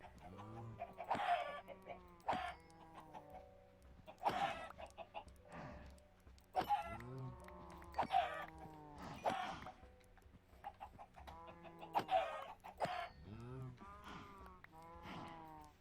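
Chickens cluck throughout a video game scene, a string of repeated clucks and short squawks coming in uneven bursts, fairly close and clear, with a voice now and then mixed in among the birds.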